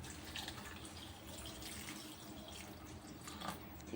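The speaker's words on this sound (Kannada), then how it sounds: "ಈಗ ಇದಕ್ಕೆ ನೀರು ಹಾಕ್ತೀನಿ ನೋಡ್ರಿ" Steady stream of water pouring into a cooking pot holding peanut powder, a continuous close splashing rush with a faint trickle, no talking over it.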